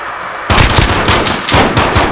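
Pistol fire from an M19 in Modern Warfare, loud close shots in a quick rhythmic stream with a brief pause partway through before firing resumes.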